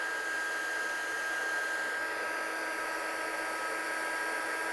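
A heat embossing gun blows hot air in a steady, even whoosh with a faint tonal whine, held close and constant for the whole stretch, setting embossing powder on a stamped monochromatic handmade card.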